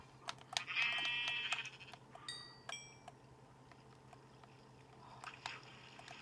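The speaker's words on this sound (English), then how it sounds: "Found a sheep." Sheep bleating in a Minecraft-style block game, a short wavering cry near the start followed by a few quiet clicks and game sounds over a faint background hum.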